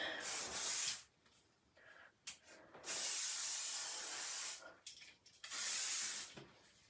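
Three long hissing bursts from an aerosol spray can, each lasting a second or more, separated by brief pauses and light handling sounds.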